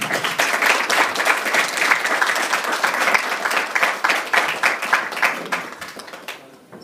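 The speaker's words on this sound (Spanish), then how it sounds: "démosle un fuerte aplauso de bienvenida" An audience gives a loud welcoming round of applause for a speaker at a lecture, with dense, close clapping holding steady for several seconds before tapering off at the end.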